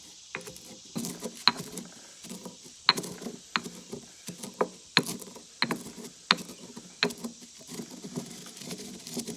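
Dried chanterelle mushrooms being ground into fine powder by hand, a close, repeated scraping and grinding in irregular strokes, each with a sharp tick, over a quiet background.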